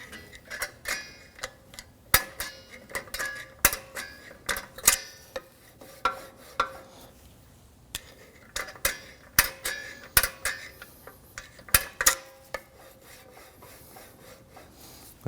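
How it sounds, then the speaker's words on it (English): Rear parking brake shoes on a 2013-2015 Subaru XV Crosstrek scrape against a hand-turned rotor, giving a dry, irregular rubbing and ticking in close, quiet bursts with no talk. "turn the adjuster until you can't turn the rotor anymore, and then turn the adjuster just a few turns back out until you don't hear the shoes contacting the rotor anymore"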